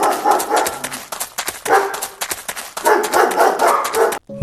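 Dogs bark in a dark jungle at night in an animated horror story, the barking arriving in repeated bursts with brief pauses between them, loud and fairly close, with no talking.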